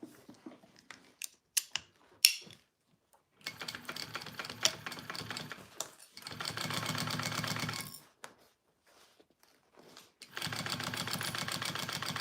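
A sewing machine stitches a quarter-inch seam allowance on an on-the-go pouch. Several close bursts of rapid, even stitching are separated by quiet pauses and a few soft handling clicks.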